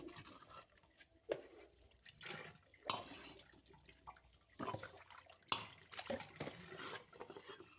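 Green spices are washed by hand under a faucet: faint, intermittent splashing and dripping water with handling bursts in a sink, no talking.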